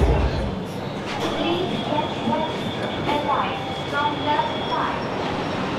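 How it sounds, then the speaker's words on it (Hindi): Orange Line electric metro train in Lahore rumbling steadily from inside the carriage, a continuous moderate rail hum with faint tonal whine and occasional squeaks, with people talking over it. "ऑरेंज ट्रेन पे बैठ के बहुत ज़्यादा मज़ा आया है"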